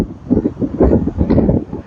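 Strong wind at Pelican Beach Park, Satellite Beach, Florida, buffets the microphone in loud, uneven low gusts, rumbling continuously with no voices.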